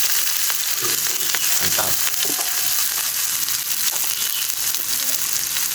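Garlic, shallots, red chili and scallion stir-frying in hot oil, a continuous loud sizzle with scraping stirs throughout, and a brief spoken word midway.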